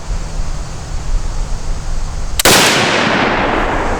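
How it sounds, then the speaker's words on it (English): A single sharp, loud gunshot from old military surplus ammunition cracks out midway after a stretch of steady background noise, its broad report ringing on and decaying slowly; no one speaks. "Ain't it fun shooting surplus ammo?"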